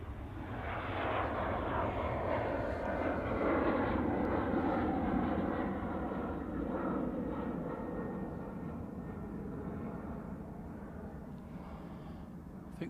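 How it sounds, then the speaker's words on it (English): A Qatar Airways Boeing Dreamliner departs Manchester Airport, its jet engines making a broad, steady roar from a distance that slowly fades as it climbs away. "Qatari Dreamliner going back to Doha."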